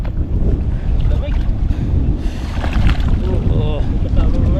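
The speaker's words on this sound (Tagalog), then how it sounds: "Grabe hangin." Strong wind gusting by a riverbank in Taiwan, a loud continuous roar and buffeting across the microphone, with faint voices underneath.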